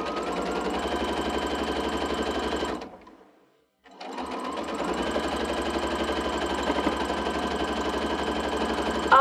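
A sewing machine stitches quilt sashing pieces with a fast, steady mechanical whir that stops briefly and then resumes. It is close and fairly loud, with no talk over it.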